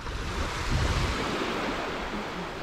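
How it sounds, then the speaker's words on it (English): Calm Atlantic Ocean waves at La Caleta beach in Cadiz, Spain make a steady broadband wash with a gentle swell, mixed with some wind rumble on the microphone. "You can still see how calm these waves are."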